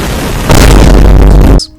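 A loud explosion in the indie horror video game Golden Light, a sudden booming blast that holds for about a second before cutting off, followed by a short high tone.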